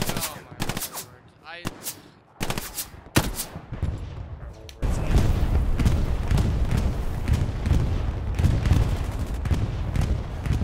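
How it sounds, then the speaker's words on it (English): Heavy gunfire and explosions in the World War II shooter Hell Let Loose during a bombing run, opening with scattered loud bursts, then a dense continuous roar of fire and blasts that stays loud throughout. "That bombing run is unnecessary."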